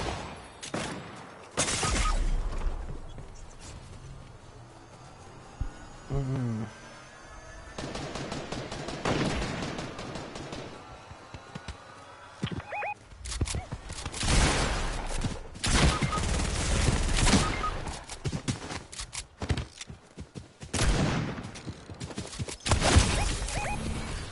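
Rapid bursts of gunfire from a shooter video game, sharp cracks and volleys coming in clusters with brief gaps, loud and close throughout.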